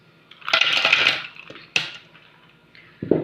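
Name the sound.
ice cubes dropped into a peach shake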